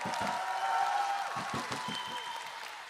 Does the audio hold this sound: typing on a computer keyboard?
no